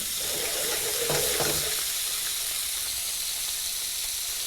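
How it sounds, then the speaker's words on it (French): Scallops sear in very hot oil in a pan, a steady broadband sizzle that runs through the whole stretch with a brief louder burst of spitting near the start and no talking. "L'huile est bien chaude. On saisit dans les Saint-Jacques."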